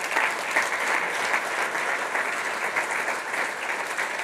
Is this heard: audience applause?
yes